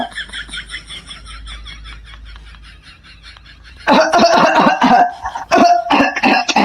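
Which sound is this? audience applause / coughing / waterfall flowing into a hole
coughing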